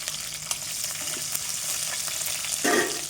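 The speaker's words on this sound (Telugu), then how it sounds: "ఇప్పుడైతే పచ్చిమిరపకాయలు వేసింది, తాలింపు గింజలు మగ్గుని పచ్చిమిర్చి వేసింది" Green chillies fry in hot oil with tempering seeds for okra stew, a steady close sizzle with faint stirring and one brief louder clatter near the end, no talking.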